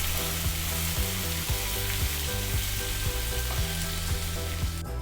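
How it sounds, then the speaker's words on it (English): Onions crackle and sizzle continuously in a hot pan, a close, steady frying sound with no voices. "We just have to stir fry until it gets nicely cooked."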